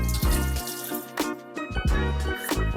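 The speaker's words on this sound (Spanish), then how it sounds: "Le voy a quitar toda esa agua." Soaking water drained off cut potatoes in a kitchen, close and fairly loud: several splashing gushes of water pouring out in bursts with brief pauses between, with no talking.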